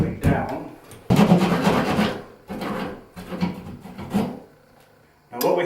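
A saw rasps through a wall, cutting vertically down beside a wooden stud, in several rough bursts of strokes with short pauses between them, close and fairly loud.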